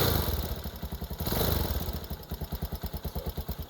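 Cheap dual sport motorcycle with a cold engine and choke on, starting up with a rising burst of revs then settling into a steady rhythmic idle putter, close and fairly loud.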